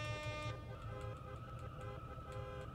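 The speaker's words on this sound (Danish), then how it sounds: "Det er H for horn. Det er mit horn." A car horn honks in the Roblox Vehicle Simulator game, a faint, steady tone held for about half a second and then trailing into softer lingering tones over low engine hum.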